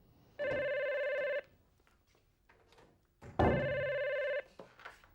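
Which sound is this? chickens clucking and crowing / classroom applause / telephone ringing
telephone ringing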